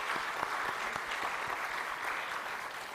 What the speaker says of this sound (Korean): 잠깐 일어나시면 뜨겁게 우리가 박수로 환영하겠습니다